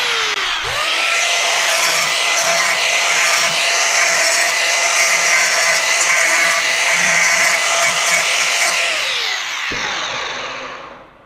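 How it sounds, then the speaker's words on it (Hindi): Angle grinder smoothing the cut edge of plastic electrical trunking, a loud steady high whine running continuously for about nine seconds before cutting off and spinning down. "ग्राइंडर का इस्तेमाल कर लेता हूँ।"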